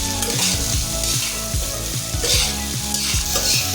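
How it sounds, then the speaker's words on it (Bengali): Marinated soybeans frying in hot mustard oil in a kadai, a loud continuous sizzle with crackling and stirring scrapes, close up and steady with no voices. "এরপর কড়াই গরম করে পরিমাণ মতো সর্ষের তেল দিয়ে ম্যারিনেট করা সয়াবিনগুলোকে ঢেলে দিন।"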